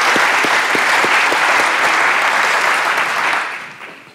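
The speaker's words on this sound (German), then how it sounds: "Aber zuerst mal einen Applaus für die Teilnehmer." A loud, dense round of audience applause for the participants of a panel on the future of digital, sustainable public administration, holding full strength before tapering away over the final second.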